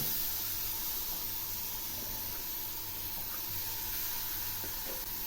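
Palm juice is poured into hot fried semolina in a pan while making palm sandesh. A steady, hissing sizzle holds at an even level for the whole stretch, with faint background noise and no talk.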